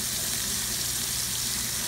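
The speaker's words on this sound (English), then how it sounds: "there's some more in here frying" Steady, dense sizzling of cube steaks frying in a hot pan, a continuous crackling hiss with no voices.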